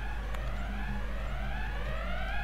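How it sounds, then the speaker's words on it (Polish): A police siren in the driving video game Driver: Parallel Lines wails in steady rising sweeps, sounding at moderate distance over a constant low engine hum, with no speech. "Czyż by to była syrena?"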